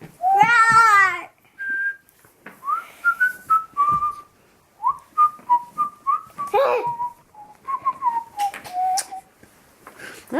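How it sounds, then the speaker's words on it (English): A person whistles a string of short, clear, rising and falling notes at a steady pace, after a two-year-old child's loud vocalizing at the start. "I think he was whistling."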